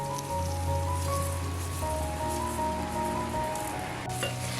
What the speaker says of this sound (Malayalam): ഇനി വേഗം തന്നെ അരി ചേർത്ത് കൊടുക്കാം കേട്ടോ.